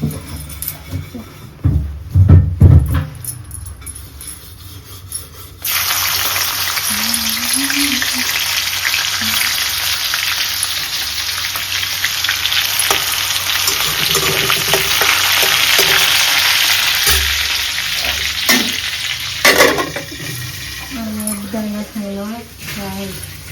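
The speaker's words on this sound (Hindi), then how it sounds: "तेल गरम हो गया अब डाल दूँ पूरन भाजी" Bohar bhaji greens land in hot oil and burst into a loud, sustained frying hiss that swells and then fades a little, with a voice speaking nearby and a few clinks of a utensil.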